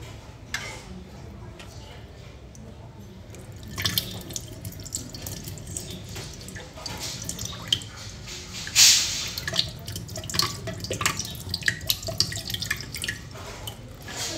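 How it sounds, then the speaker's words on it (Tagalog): Water pours into a container, a steady splashing and trickling stream that lasts throughout, rising and sputtering toward the end, with light tapping and handling sounds mixed in. "Ito na po, lalagyan na po natin ng tubig."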